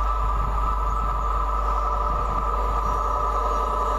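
A four-coach CrossCountry Class 221 train runs past at speed, a loud, steady roar of wheels and engine with a constant high whine, close and unbroken for the whole stretch.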